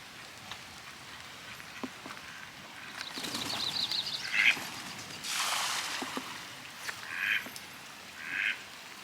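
A duck at a lake in the rain gives a few scattered quacks amid steady rainfall and pattering drops, fairly faint and at a moderate distance, with no one talking.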